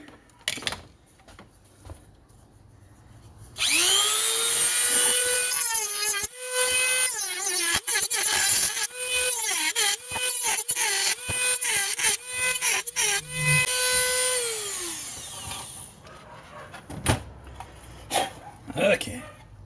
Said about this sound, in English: I think I'm gonna get my die grinder and grind those down a little bit.